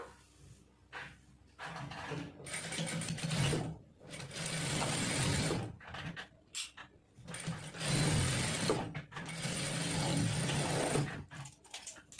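Sewing machine running a straight side seam on a blouse: long, steady mechanical whirring in several extended runs with brief stops between them, close and loud with no talk.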